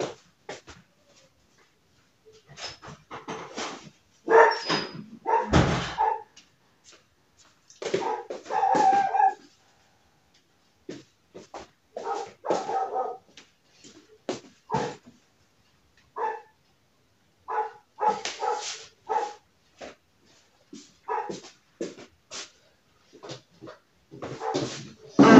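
A dog barks outside at the gate in repeated bursts of sharp barks and yips, some loud and some fainter, separated by short silent pauses, with no talking.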